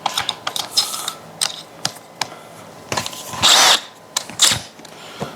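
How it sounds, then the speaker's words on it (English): A countersink tool deburring drilled holes in metal in a fabrication shop, heard as close, sharp metallic clicks and brief scrapes at irregular intervals, with one longer grinding scrape midway and no talking. "Now I'm going to take a countersink and just kiss these."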